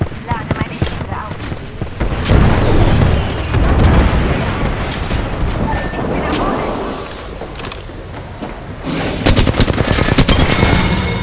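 Rapid automatic gunfire and explosive booms fill a firefight in the video game Apex Legends, loud and continuous bursts crackling near, with brief lulls and voices underneath.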